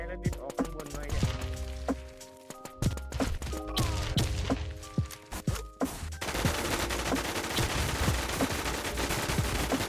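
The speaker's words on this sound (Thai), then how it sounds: "ปืนไม่ตรงยิงไม่โดนอ่ะ อะไรเขายิงกูนะ" Rapid bursts of gunfire from the Warz video game, mixed with thuds and single shots, turning into a dense continuous barrage in the second half, with voices among the shots.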